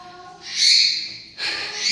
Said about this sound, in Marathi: चला चिवचिव असे मस्त बसलेत बघा